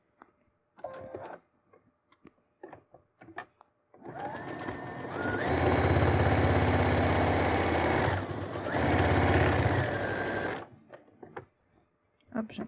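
A sewing machine runs in two sustained bursts of stitching on a bustier, with a short pause between them, set against quiet handling clicks and rustles before and after.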